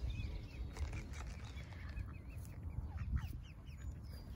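Ducks quacking at a UK park pond with chicks about, alongside swans; a mix of soft, scattered calls over a steady low background rumble, fairly quiet and continuous with no talk.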